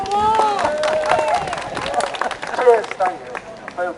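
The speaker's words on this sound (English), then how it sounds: "I was expecting an applause there." Crowd at a street demonstration for Gaza in Sunderland breaks into a burst of clapping and cheering, fairly close and lively, with a voice shouting over it.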